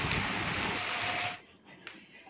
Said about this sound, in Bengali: কি দারুণ বৃষ্টি হচ্ছে